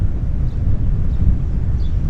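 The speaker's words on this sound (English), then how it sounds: "it is windy out today" Steady wind blowing outdoors at a zoo on a dusty day, a constant low rumbling roar buffeting the microphone, loud and close throughout, with no voices.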